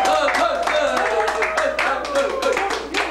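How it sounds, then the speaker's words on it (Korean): An audience at a lecture claps in a dense, continuous patter of hands close by, with a voice talking over the clapping. "자, 박수 부탁합니다."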